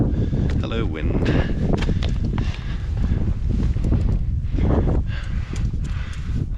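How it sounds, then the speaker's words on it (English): Gusty wind on an exposed mountain ridge pounds the microphone in loud, uneven low rumbles throughout, with someone speaking over it. "Hello wind."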